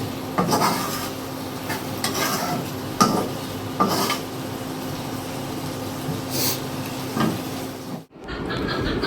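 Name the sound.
fish frying in spiced mustard oil in a pan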